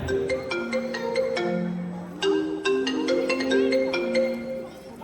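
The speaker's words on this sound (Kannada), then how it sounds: "phone rings from basement" A phone rings with a bright repeating melodic ringtone, clear and steady for several seconds, with no talk over it.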